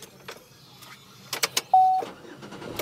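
A car engine is switched off and then cranked back to life, with a few sharp clicks and bursts followed by a louder starting surge, close by inside the car with no talk.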